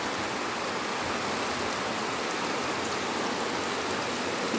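Heavy rain pours down steadily in a dense, unbroken roar of drops, loud and continuous with no voices.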